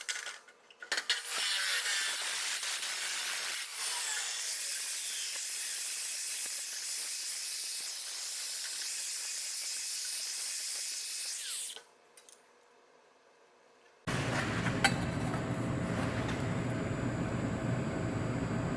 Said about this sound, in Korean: 30각을 한번 잘라 볼게요